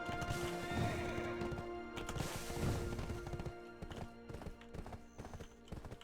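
Horse hooves clip-clop in the Black Desert Online video game, a fast, busy run of close, loud hoofbeats mixed with game clatter and a few sharp knocks, without speech.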